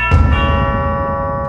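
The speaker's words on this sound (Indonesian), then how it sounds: "ada yang memijit bel pintu rumah Manoj" A doorbell pressed at a house in an Indian action film gives a single bright ringing chime with sustained tonal overtones that slowly decay, loud and close, with no voices.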